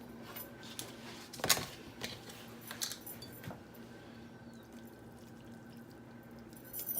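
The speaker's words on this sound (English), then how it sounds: "then we are going to pour it into our salad and stir everything up." Whisked dressing is poured into a keto Greek salad with cauliflower in a kitchen, giving soft trickling and clinking sounds with a few sharp taps of utensil on bowl, fairly quiet and close.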